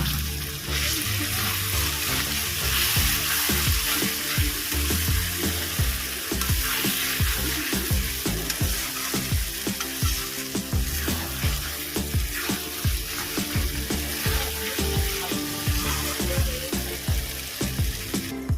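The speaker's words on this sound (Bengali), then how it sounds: "মশলাটা ভালো করে কষানো হয়ে গেছে তেল ছেড়ে দিয়েছি আমি আলু দিয়ে দেবো ভালো করে এটা মিশিয়ে নেব" Potato chunks stirred into curry masala frying in oil for a Bengali chicken and potato curry: a steady loud sizzle runs throughout, broken by repeated scraping stir strokes, with no talking.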